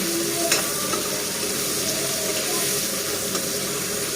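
Food simmering and frying in a nearly finished pot gives a steady soft sizzle and bubbling throughout, with faint clinks in the background and no talking.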